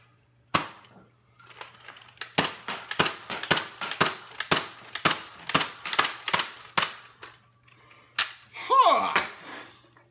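A BOOMco Crank Force toy blaster fires single shots, producing a series of sharp, close, plasticky snaps at an irregular rhythm, with a handling noise near the end and no talk.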